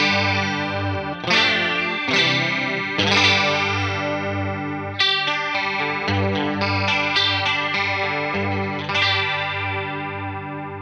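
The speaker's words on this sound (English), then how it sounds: "Turn up depth and level, see if we can get the chorus sound to be really prominent in our ears." Electric guitar run through a Behringer UC200 Ultra Chorus pedal with depth and level turned up, sustained distorted chords with a shimmering, wavering chorus texture, restruck every second or two and ringing out without talk.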